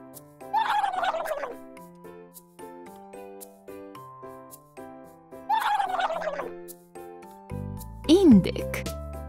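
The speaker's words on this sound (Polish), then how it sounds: "Indyk." A turkey gobbles twice in loud, rapid, warbling bursts set over light children's music, and a voice speaks near the end.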